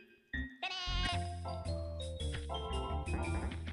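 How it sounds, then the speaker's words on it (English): Goat bleats in an N64 video game: a loud, wavering game-audio bleat starts abruptly, followed by a run of synthetic tones and blips, close and clear with no talk. "Why do we keep hearing goat bleats?"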